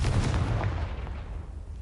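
The Confringo explosive spell goes off in a Hogwarts video game as a loud, close blast whose rumbling boom decays over about two seconds.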